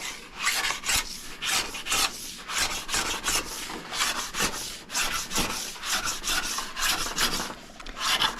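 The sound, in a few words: hand file rubbing along ski base edge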